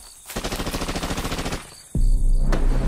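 Rifle gunfire in a Filipino audio drama: a rapid burst of evenly spaced shots, then a sharp crack followed by a loud, sustained blast, all close and with no talking.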